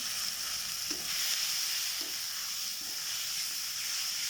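Onions frying in a pan for a chicken curry, a steady close sizzle and hiss running throughout with a few soft stirring scrapes, no voices.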